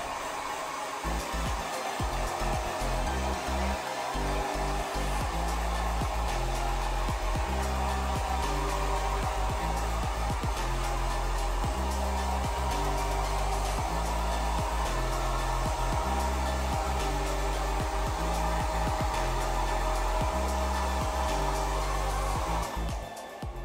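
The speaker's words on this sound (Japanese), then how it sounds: "ずっとドライヤーかけてる" A hair dryer blows continuously throughout while hair is being set, a loud, steady motor whir with a faint rhythmic fluctuation as it moves, with no talking.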